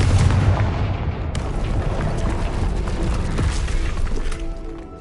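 The Confringo explosive spell blasts in Hogwarts Legacy with a loud, booming burst of fiery crackle and debris, sustained and rumbling throughout before easing slightly at the end.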